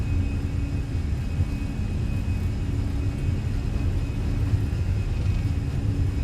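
Airliner engines spool to takeoff power in an MSFS Fenix flight simulation at night, a steady, dense low roar with a faint high whine running unbroken throughout.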